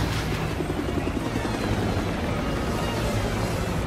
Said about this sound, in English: Is this like this police helicopter there to help him, like draw their attention to the sky?